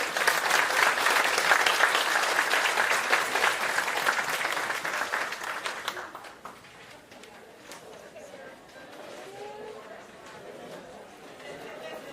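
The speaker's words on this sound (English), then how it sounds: "Big round of applause, and go home and start tomorrow with the next chapter towards our 5 years" A conference audience in Philadelphia breaks into loud, sustained applause that fades after several seconds into scattered chatter and movement around the room.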